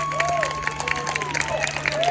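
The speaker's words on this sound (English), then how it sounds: "You clap what you think on a scale of 1 to 5." An audience claps and cheers to rate a game, a short burst of scattered hand claps and crowd noise over a steady low hum.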